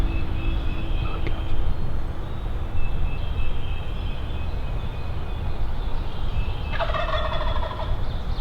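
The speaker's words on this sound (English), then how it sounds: "So this bird's gobbling pretty good" During a spring hunt, a wild turkey gobbles once, clear and fairly near, late in the stretch over a constant outdoor background hiss, with a faint earlier call and no talking.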